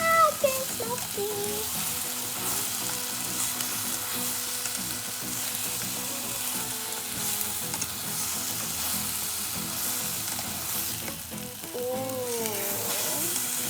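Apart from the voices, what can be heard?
scrambled eggs with pepper frying in an electric hot pot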